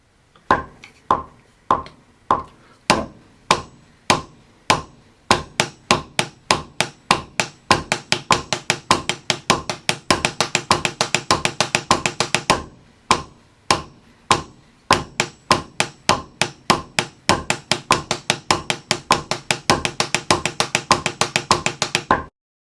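Steady percussive drum strokes, first a bar of evenly spaced eighth-note triplets, then a bar of faster sixteenth notes, four per beat, crisp and close with no talking.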